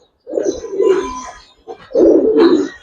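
Giribaz high-flyer pigeons from a farm coo close by, two low, throaty rolling calls in quick succession with a short pause between.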